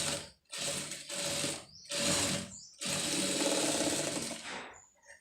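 A sewing machine stitches a blouse in several loud, close bursts of rapid mechanical whirring separated by short pauses, the last run longest before it stops.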